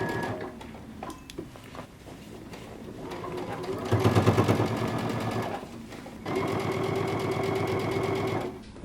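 A sewing machine runs around a jumpsuit sleeve hem in bursts, with a louder stretch near the middle and a steady run toward the end, and quieter pauses in between.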